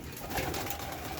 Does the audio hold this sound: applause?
no